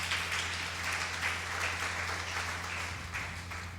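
A church congregation applauds and acclaims the Lord, with steady, dense clapping that holds at an even level throughout and includes no speech.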